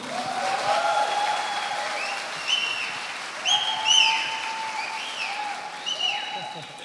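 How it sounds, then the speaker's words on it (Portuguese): A church congregation applauds during a worship service, a steady wash of clapping beneath voices and high, sliding cheers or whoops that rise and fall throughout. "Vamos dar um aplauso ao Senhor"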